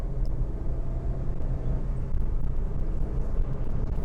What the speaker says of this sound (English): Let me open the window for a moment so you can really pick up the engine sound.